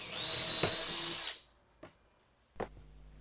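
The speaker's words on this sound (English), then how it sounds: "Then I drill a hole through all the numbered holes 1 to 10 going along the ruler." A power drill runs loud and steady for over a second, then winds down, followed by two short bursts of drilling holes through a workbench top along a ruler guide.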